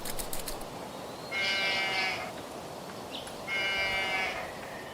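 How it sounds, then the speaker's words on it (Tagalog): Sheep being called home in an animated Noah's Ark story, heard as two drawn-out bleating calls about two seconds apart over a steady background hum, with no talking. "Tulungan mo akong pauwiin ang mga alaga nating tupa."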